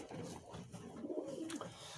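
Pigeons in a loft give soft, low cooing calls, a couple of rolling coos close by in a quiet space.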